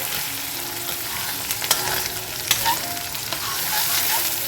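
Gobindobhog rice frying with cashews and raisins in a pan for a potol dish, a continuous soft sizzle broken by a few sharp scraping stirs and clinks, close and fairly quiet with no talking.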